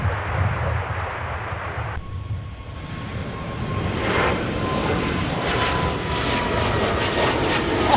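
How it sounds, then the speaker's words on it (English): An airliner making a touch-and-go at Minneapolis airport: a loud engine roar that dips briefly, then swells again into a sustained, building jet rumble with a thin whine running through it. "we are absolutely going to be taking a look at the touch and go here"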